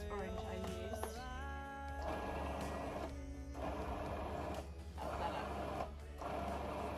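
A Magimix food processor mixes mince pie filling with a whirring motor hum that rises in pitch, then pulses and pauses several times, while a person speaks briefly.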